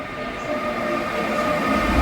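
A Mugunghwa train on a South Korean rail line gives a continuous low rumble with rail hum and faint clatter, growing slightly louder toward the end and heard alone without talk.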